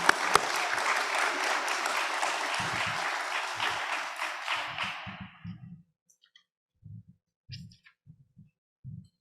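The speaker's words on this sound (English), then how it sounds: "Another round of applause." A graduation audience applauds for about five seconds, the clapping then dying away into quiet, leaving low thumps and handling noise.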